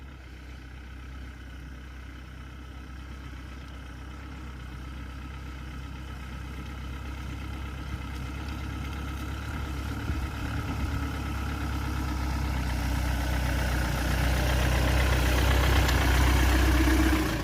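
RAF Land Rover idling in the countryside with a trailer hitched, a steady low diesel rumble alone that grows gradually louder and rougher toward the end.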